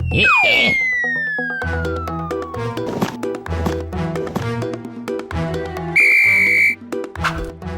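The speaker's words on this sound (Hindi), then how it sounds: "सीटी बजा के" A shrill, steady whistle is blown once for a bit under a second in a children's cartoon, loud over a busy music score with a descending slide effect earlier on.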